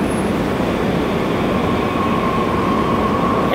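A San Francisco Muni light rail train draws near with a steady, loud rumble and a thin high whine or squeal running over it, continuous for a few seconds with no voices.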